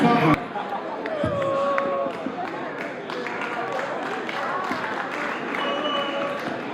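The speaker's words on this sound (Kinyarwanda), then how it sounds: "amashyi menshi cyane" Applause and crowd noise from an audience at a stage performance fill the clip at a steady, dense level, with a sharp burst right at the start and loud crowd sound throughout.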